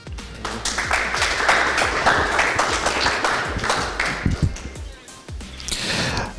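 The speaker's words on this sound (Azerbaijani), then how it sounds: "alqışlayaq Vüqar bəyi" An audience applauds a black belt master at a year-end awards ceremony broadcast on Dünya TV, with steady, dense clapping that holds for several seconds and dips slightly before picking up again near the end.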